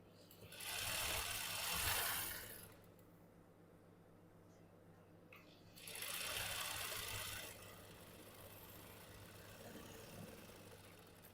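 A sewing machine runs in two bursts of stitching, tacking fabric for cigar pants while leaving room for a one-inch elastic, with a steady mechanical whir between quieter pauses and a low hum underneath.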